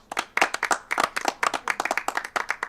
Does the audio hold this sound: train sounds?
no